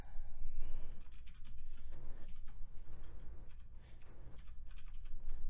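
Computer keyboard typing while writing JavaScript code, a continuous run of soft clicking keystrokes over a low background hum, steady and close.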